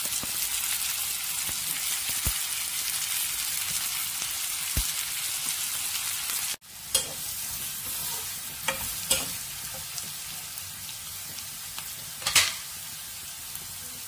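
Onions sizzling in oil in a pan for a drumstick and milk curry, with a continuous close hiss and crackle, a brief break, then scraping stirs and spattering pops.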